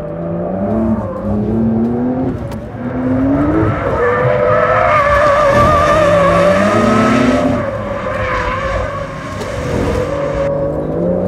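Porsche 911 Dakar sliding and skidding on loose ground, its engine revving and wavering loudly through a continuous drift with tires scrabbling, close and steady for the whole stretch.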